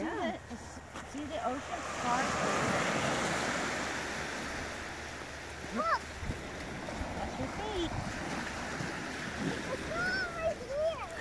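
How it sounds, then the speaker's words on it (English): Waves and surf wash along a Florida beach in a steady, close roar, while voices and faint background chatter come and go over the water. "Emmy, so what do you think of the beach?"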